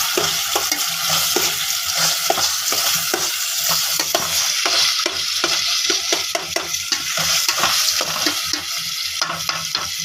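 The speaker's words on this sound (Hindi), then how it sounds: "इसमें हम लोग बैंगन का भरता ऐड करेंगे। ये देखिए, अब इसे अच्छी तरह मिक्स करें।" Eggplant bharta being stirred into browned garlic in a hot frying pan, a steady loud sizzle under the rhythmic scrape and clatter of a spoon mixing throughout, with no voices.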